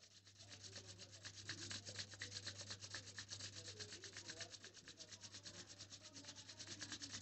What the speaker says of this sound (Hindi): now rub your palms